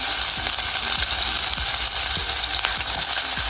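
Sliced onions fry in hot oil in a pan for a soy-meat curry, a steady, loud sizzle and crackle with occasional stirring scrapes, no voices.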